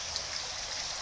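Fresh water pours and churns steadily in a flow-through catfish hatchery tank, a soft, constant splashing trickle heard alone for a short moment.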